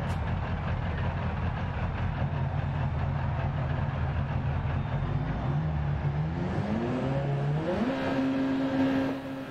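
Rally car engine in the game DiRT Rally 2.0 on a gravel rallycross circuit, a loud steady drone that climbs in pitch through stepped revs toward the end, with no talking.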